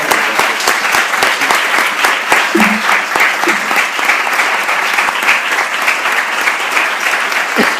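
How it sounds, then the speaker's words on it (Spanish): A large audience claps steadily for a film director at a talk during the SANFIC film festival in Chile; dense, sustained applause fills the room with no speech over it. "destacado realizador, Laurent Cantet, para quien pido un gran aplauso."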